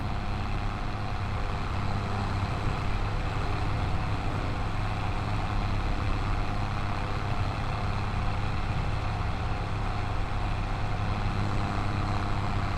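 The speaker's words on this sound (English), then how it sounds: "this is really tough on the engine" A heavy, unbroken truck engine roar pushes a blade through deep snow at a Montana shop, loud and steady throughout with no speech over it.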